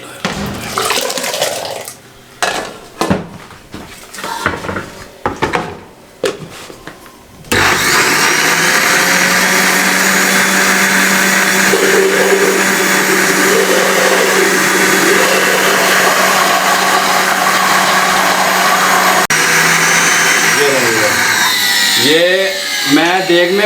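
Haleem is mixed in a blender jug: after several seconds of clattering handling and a voice talking, the motor kicks in with a loud, steady whirring roar that holds, then its pitch swoops and wavers near the end.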